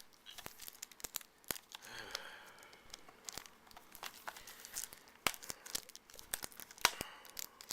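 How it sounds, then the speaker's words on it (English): Plastic shrink-wrap being torn and peeled off an anime DVD case, with repeated sharp crinkling rips and crackles in short bursts, close and fairly quiet, no talking. "And then sometimes this plastic just does not want to come off."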